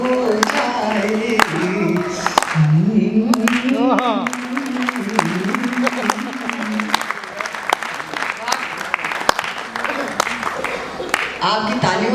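Audience at a live Hindi poetry recital applauds with scattered, crisp claps and some cheering and whoops, while a voice talks over the clapping.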